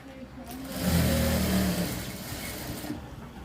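A sewing machine stitches a blouse seam with a steady mechanical whir. It swells briefly and then runs on evenly, close by, for a few seconds.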